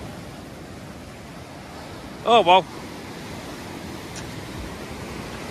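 Steady broadband rush of sea waves and wind on the shore at Swanage, continuous and fairly even, with a man's short spoken remark briefly over it midway.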